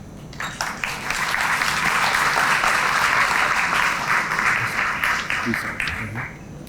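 Sustained audience applause fills a police district community relations awards ceremony, a dense wash of many hands clapping steadily for several seconds before tapering slightly at the end.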